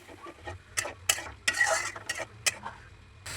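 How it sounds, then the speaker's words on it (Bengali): Prawn-head spice mixture with onion being stirred with water in a pan, several distinct scraping strokes of a utensil over a soft simmering sizzle, close and moderately loud with no talk. "এখন পানি দিয়ে ভালো মতো কষিয়ে নিব"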